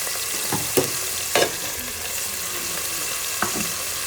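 Mixed vegetables for a Chinese-style dish sizzle in hot oil in a pan, a continuous close frying hiss broken by a few sharp clacks and scrapes of stirring.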